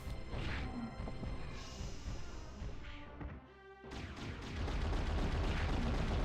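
Bombs blowing up in the action RPG Alundra during a boss fight: a dense run of loud, crashing explosive bursts over busy game music, with a brief lull near the middle before the blasts and clatter surge back.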